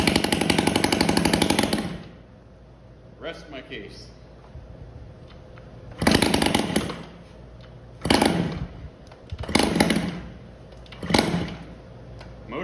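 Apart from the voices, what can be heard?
Yamaha QT-50 moped engine running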